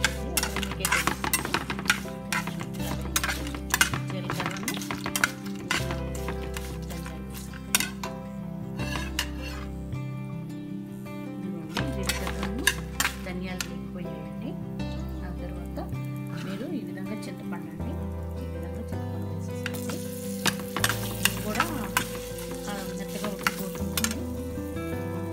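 Coriander seeds being stirred in a pan rattle and clink intermittently, with a faint frying hiss underneath, while someone talks steadily over the cooking throughout.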